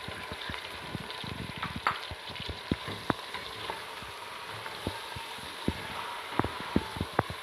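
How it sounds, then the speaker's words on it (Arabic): Chicken and finely chopped large onion fry in a pan, a steady crackling sizzle broken by sharp scattered pops and spoon clicks, close and fairly quiet, with no talking. "من بعد ما يتقلى لنا الدجاج تاعنا نزيدو البصلة، بصلة كبيرة هنايا متقطعة صغير صغير."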